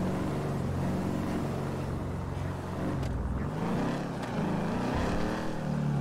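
Lawnmower engines roar in a Grand Theft Auto V police chase, a steady, loud, close motor drone that hums continuously for several seconds with slight shifts in pitch and no voices.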